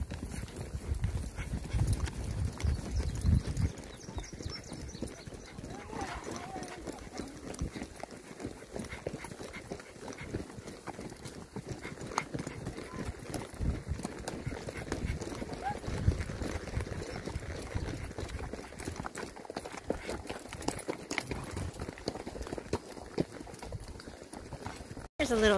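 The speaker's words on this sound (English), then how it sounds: "A little trail riding video of Louis Vuitton" Horse hooves clip-clop on a trail ride at Wrangler's Camp as a tri-colored gelding and others walk along, a steady close rhythmic thudding with voices talking over it throughout.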